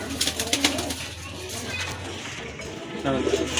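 A pigeon at a farm selling local and foreign breeds gives soft low coos near the microphone, one burst at the start and another at the end, with a faint voice in between.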